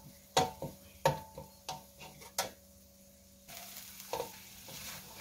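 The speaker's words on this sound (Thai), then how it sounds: "เราก็ใส่พริกแกงลงไปเลยค่ะ" Thai curry paste fries in oil in a pan, soft sizzling broken by quick spoon taps and scrapes, the hiss rising and settling toward the end.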